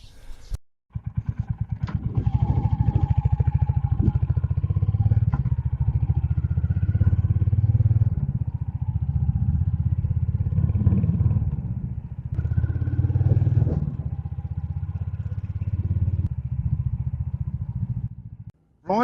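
A Royal Enfield Hunter 350 carrying saddlebags rides along at about 70 km/h, its engine droning steadily close up with some wind noise and brief dips, while a rider's voice is faintly present.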